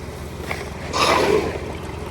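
Water trickles and runs along a flooded sidewalk held back by sod, a soft close burble that swells briefly in the middle before settling back.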